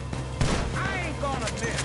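Rapid gunfire rattles out in a PS4 action game, a dense burst of shots mixed with game effects while a voice talks over the shooting.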